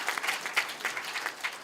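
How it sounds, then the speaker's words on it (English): A lecture audience at a professorial inaugural lecture claps in a brief burst, quiet and somewhat distant, with distinct individual claps audible through the room. "Can we give a big round of applause?"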